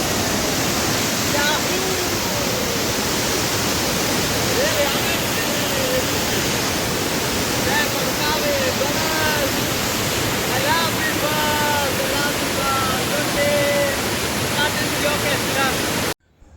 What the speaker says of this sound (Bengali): এটার নাম উইশডং ঝর্ণা বা জলপ্রপাত